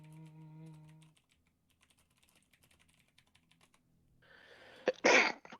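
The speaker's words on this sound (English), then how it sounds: "He just said sneeze. And he sneezed." A person sneezes once, loud and close, after a few seconds of faint keyboard typing and a brief hum of voice at the start.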